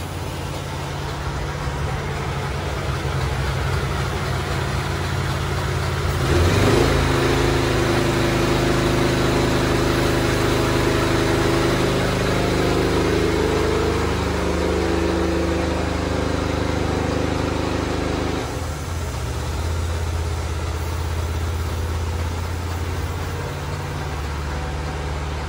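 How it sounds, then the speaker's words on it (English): A VMAC 30 CFM air compressor runs steadily while it drives an air diaphragm pump feeding a high-flow proportioner that sprays outdoors. The sound is a loud, continuous engine-like drone with broad hiss, and it surges louder for about twelve seconds in the middle. "this is with the VMAC air compressor with our high flow proportioner and the 30 CFM air compressor"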